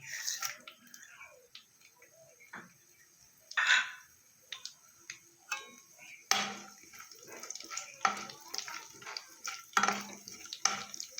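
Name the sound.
whole cumin and garam masala frying in mustard oil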